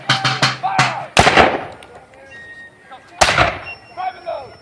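Musket volleys at a Revolutionary War re-enactment battle between British and American units: several sharp, loud cracks in quick succession, then isolated reports that echo and trail off, with voices faintly in the background.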